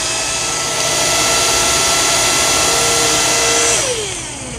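A Samsung Jet cordless vacuum cleaner runs at a loud, steady whine with a broad airy rush, then its motor pitch slides downward as it is switched to a lower power setting near the end.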